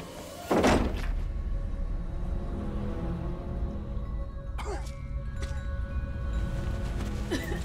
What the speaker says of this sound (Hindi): आप दरवाजा खोल दीजिए।